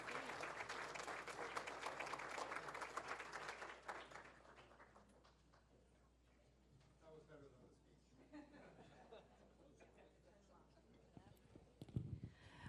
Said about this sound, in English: I don't think I've seen a standing applause here before.